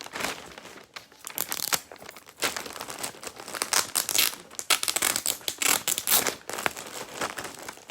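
Gift wrapping paper being torn and crumpled in sharp, irregular bursts of rustling and ripping, close and loud, with no talking.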